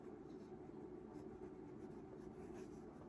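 A Lamy 2000 fountain pen with a gold nib writes on paper, giving a faint, steady, smooth scratching with very little texture, quiet and close.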